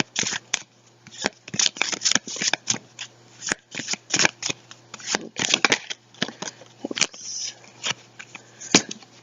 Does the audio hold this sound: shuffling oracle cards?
yes